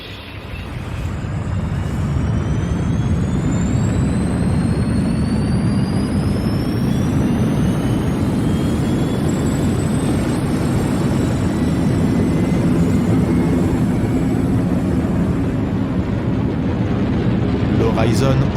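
Spaceship engines fire up and blast off in a science-fiction scene, tearing free of a spaceport: a loud, sustained low roar swells within the first two seconds and holds steady, with a whining high sweep running over it.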